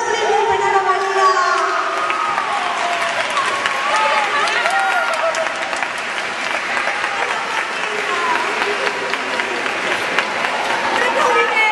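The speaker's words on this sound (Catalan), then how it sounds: "Un aplaudiment per Nana Maria." An audience at a school maths-puzzle prize event applauds Nana Maria with sustained, dense clapping mixed with cheering and excited children's voices and chatter, steady and fairly loud throughout.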